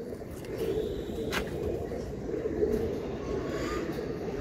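Giribaz pigeons coo softly and continuously nearby, a low murmuring drone with a faint rumbling hum beneath.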